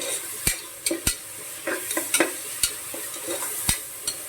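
Onions sautéing in a pan for a goat head curry: a steady soft sizzle broken by sharp, irregular clinks and scrapes of a spoon stirring against the pan, close and unaccompanied by talk.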